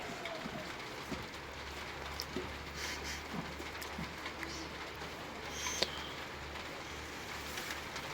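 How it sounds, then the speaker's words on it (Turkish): Steady rain falls outdoors on a farm, a constant close hiss with scattered drips and a low rumble underneath, with occasional faint bird calls and brief distant sounds breaking through. "Bugün de hava fena yağmurlu"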